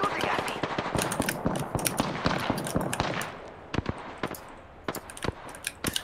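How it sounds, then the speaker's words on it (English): Gunfire in the Apex Legends battle royale, with many sharp shots crackling in irregular bursts against dense background game noise, the shots thinning out into scattered separate cracks toward the end. "They're shooting at me."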